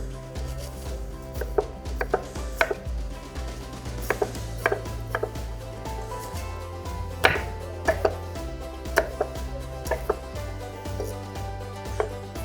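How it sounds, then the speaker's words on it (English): Green tomatoes being chopped with a knife on a board, a series of sharp irregular thuds, some louder than others, alone and close. "We're gonna use all of this tomato, chop it up."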